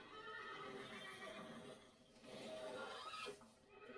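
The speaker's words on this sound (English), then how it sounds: "Oh, you can hear horses." Horses whinny and neigh in drawn-out calls in Microsoft Flight Simulator 2020, fairly faint and distant, rising and falling twice over a low background.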